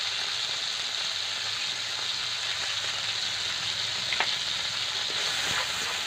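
Fish curry masala with yogurt and a spoon of sugar stirred and fried in a pan, a steady bright sizzle with occasional scrapes and clinks of the spoon, close and continuous without speech.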